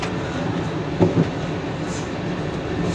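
Inside the cab of a passenger train on the Twickenham to London Waterloo line, a steady rumbling roar of running on track with a single brief clunk over a joint partway through.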